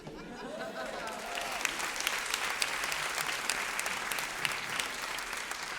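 A theatre audience at a stand-up comedy show applauds steadily, a dense sustained clapping with a few nearby sharp claps and a faint voice at the start.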